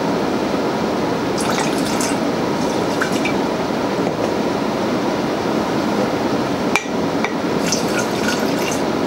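Broth drips and trickles into a glass jar of rice substrate for cordyceps cultivation, a soft wet patter with scattered drops over steady background noise and one brief louder tap near the end.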